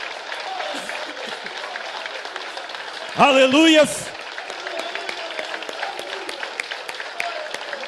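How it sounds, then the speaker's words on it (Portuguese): A church congregation claps and cheers steadily throughout, with a brief loud sung or shouted exclamation rising above the crowd partway through. "Você pode dar uma salva de palmas para Jesus Cristo?"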